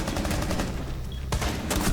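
Gunfire in the Rainbow Six Siege video game comes as rapid, loud automatic bursts with sharp cracks near the end.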